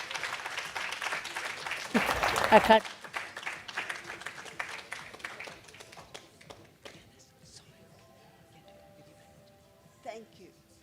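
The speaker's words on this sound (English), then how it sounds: "And a round of applause." An audience at a Faculty of Law 80th anniversary sundowner breaks into applause that peaks quickly and then fades over several seconds, with a few voices speaking afterward.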